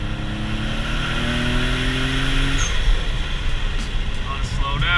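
A Nissan 350Z or Mitsubishi Evo X sports car accelerates in a brief half pull on a main road. The engine climbs in pitch and then backs off, heard from inside the car with people talking over it.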